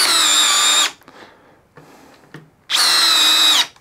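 A Bosch multi-chuck drill driver fitted with a quarter-inch hex bit and a 4-amp-hour battery, spinning up in two loud high-pitched whining bursts with a quiet pause between them.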